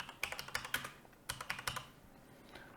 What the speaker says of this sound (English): if we type disk management